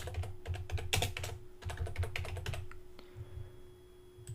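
Quick, uneven keystrokes on a computer keyboard as a name is typed into a Divi theme team-member module, clattering close by over a steady low hum, with no speech.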